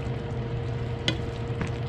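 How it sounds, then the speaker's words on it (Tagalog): Oysters and tomatoes sizzle softly in a pan while a utensil stirs them gently, with a steady low frying hiss and a couple of brief scrapes, close and quiet, with no voices. "Kaya konti-konti lamang po ang paghalo."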